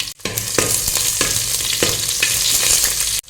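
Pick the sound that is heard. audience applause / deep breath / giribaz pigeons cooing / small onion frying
small onion frying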